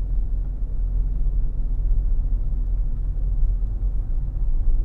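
A parked car's engine left running, a steady low idling rumble with constant deep drone and no change in pace, close by and unbroken, with no talking over it.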